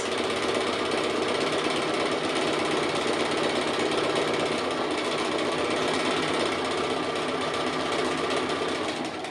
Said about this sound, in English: I'm now just starting to do some of this fun decorative stitching on the roof here